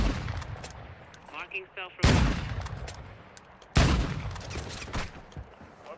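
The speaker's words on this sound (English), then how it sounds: "someone was shooting" Gunfire in the mobile shooter Warzone Mobile, with sharp bursts around the middle and later in the clip, each decaying into reverberant echoes, under brief in-game radio voice and player chatter.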